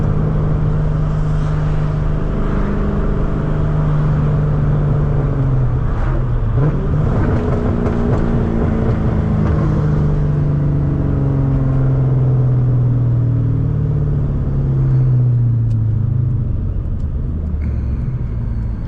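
A 500hp Ford Cobra engine hums and revs steadily while driving at night, its pitch rising and falling through gear changes, close and continuous with a low rumbling drone.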